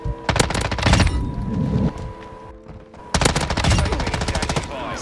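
Rapid automatic fire from an M13b rifle in a first-person shooter game, two long loud bursts of fast crackling shots separated by a short quieter gap.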